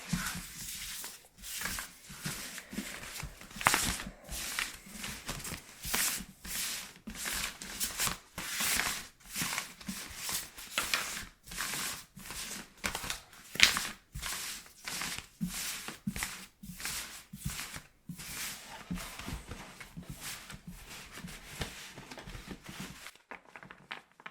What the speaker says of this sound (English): So I'm going to shuffle it traditionally.